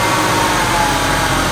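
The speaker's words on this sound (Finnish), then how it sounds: "se lähti ihan oikeaan malliin käyntiin, kun oli nyt lämmin konekin" A warm BMW M52 car engine running with a Speeduino-compatible ECU, a steady close idle holding even throughout with no talk.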